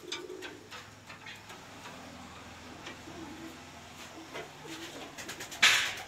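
Pigeons in wooden coop boxes give soft, low cooing calls in a steady murmur, with light ticking and a brief sharp noise near the end, no talking heard.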